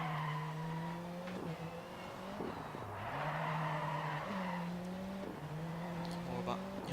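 Rallycross car from DiRT 4, an all-wheel-drive light racer, sliding through corners in the game with a loud constant engine drone and pitch steps as it shifts gears, with tires scrubbing throughout.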